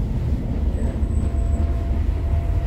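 A Tyne and Wear Metrocar rumbles steadily at a station, with a low continuous rolling drone and a faint high whine, no voices.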